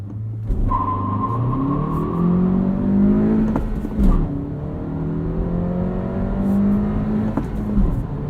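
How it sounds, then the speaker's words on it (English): A car launching from standstill toward 60 mph with traction control off, engine revving hard and climbing through gear changes with brief dips between shifts, loud and close from inside. "Let's turn off traction control and we'll do a 0 to 60."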